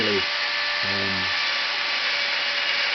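A high, steady electric grinding whine from a rotary tool carving bone runs continuously, close and loud, with faint voice fragments briefly at the start.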